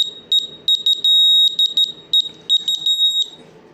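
High-pitched electronic beeps from a laser level detector sensing centre, in quick, irregular bursts, with one longer steady tone in the middle, loud and close, during kitchen cabinet installation.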